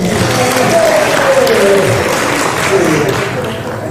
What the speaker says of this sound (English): a hand clap for him